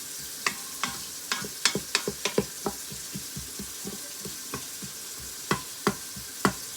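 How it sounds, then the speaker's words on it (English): Chopped onions stirred in melted butter in an Instant Pot, a soft sizzle under scattered clicks and scrapes of a utensil against the pot, fairly quiet and close. "So my butter is melted, so I'm going to add my onions, my chopped onion, and we're going to saute those"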